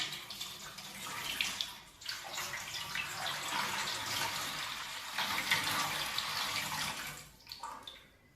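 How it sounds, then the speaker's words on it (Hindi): Water poured steadily from a vessel into a metal plate during a home ritual, a close splashing rush lasting several seconds with brief pauses between pours. "ये पानी जो है आपने थाली के अंदर डाल देना है"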